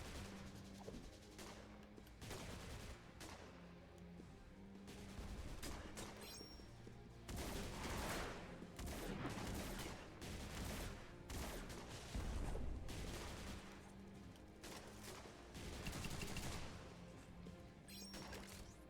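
Sustained gunfire from the G.I. Joe: Operation Blackout video game, dense bursts and crashing impacts in a loud, continuous barrage over a game soundtrack, with no break across the whole stretch.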